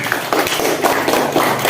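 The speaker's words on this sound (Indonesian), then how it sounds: "kita berikan tepuk tangan dulu untuk kelompok 1" Children in an elementary school classroom clap for a group, a loud, uneven patter of many hands that carries on briefly without a break.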